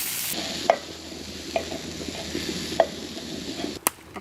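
Dinner frying at a campsite gives a steady sizzle with occasional utensil clicks and stirring knocks, close by and moderately loud, no voices heard.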